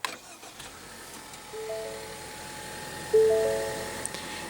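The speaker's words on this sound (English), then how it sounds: "what you're hearing there is a 2-liter turbo 4-cylinder" 2016 Ford Fusion with a 2.0 L turbo 4-cylinder starting by push button: a brief crank followed by a steady idle hum with faint chime tones, rising in loudness around the three-second mark, with no talk.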